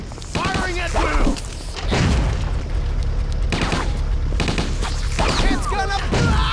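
Gunfire in a zombie shooter video game, heard as bursts of booming shots and thuds in two main clusters over a dense, loud mix, with someone talking over the action.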